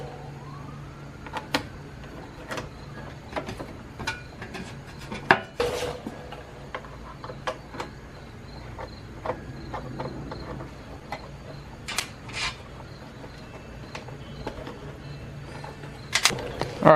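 A Phillips screwdriver backs screws out of an FD RX7 headlight shroud. Light, sparse metallic clicks and ticks land irregularly over a quiet room background, with a slightly louder clatter now and then.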